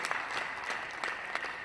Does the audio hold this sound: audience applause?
yes